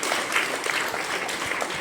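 Audience applause at a school investiture ceremony, a dense continuous clapping from a large crowd in a hall, steady and moderately loud throughout.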